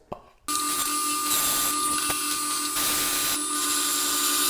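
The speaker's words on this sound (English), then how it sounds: "Let's go drill some holes." A loud, steady whine of a power drill with a hole saw cutting holes in wood starts after a brief pause and runs continuously, with slight shifts in pitch as it bites.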